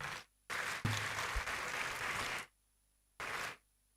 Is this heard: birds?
no